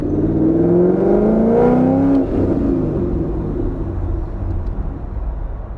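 The engine of a custom-built dream car idles loud and close as its revs sag and nearly stall. A steady deep rumble carries a falling whine that drops over about two seconds and then settles into a rough, low, labouring idle.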